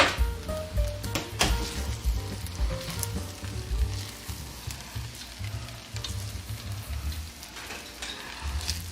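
Chicken fried rice sizzles in a pan while being stirred constantly, a dense, crackling fry with scraping and clattering utensil strokes throughout, close and steady with no talking.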